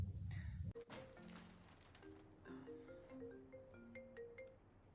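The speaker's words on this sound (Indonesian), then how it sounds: "ketika Diane pulang dari berbelanja, ia mendapatkan telepon dari seseorang" Phone ringtone in a film scene, a sequence of clear electronic tones following a brief thump, moderately quiet with no talk over it.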